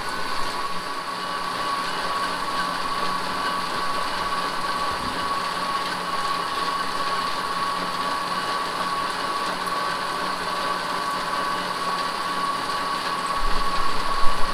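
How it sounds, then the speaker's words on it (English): Pedaling a bike drives an alternator mechanism in a steady mechanical whir with a constant tonal hum, moderately quiet and unbroken for the whole stretch. "I'm literally just turning the alternator and turning the mechanism mechanically."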